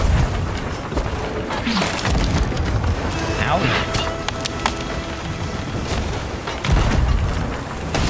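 Ship cannons boom repeatedly during a close-range brig and sloop battle in a pirate video game, heavy blasts and splintering crashes layered over busy game noise while players talk and shout.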